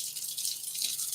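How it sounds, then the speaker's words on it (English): Tap water runs over rice being rinsed in a colander, a soft continuous hiss and patter nearby with no voices. "I'm just rinsing the rice sort of until the water runs a little hard to see"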